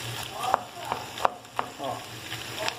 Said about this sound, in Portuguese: Vou deixar a cebola dar uma fritadinha.